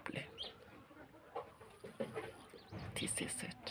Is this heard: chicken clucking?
yes